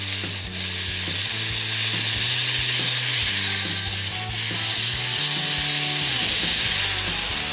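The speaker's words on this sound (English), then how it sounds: "we're just going to let it saute for about 3 to 5 minutes until it softens just a little bit" Asparagus sautés in a pan with salt over medium heat, a steady, loud sizzle running continuously under a low stepped droning tone, with no talking.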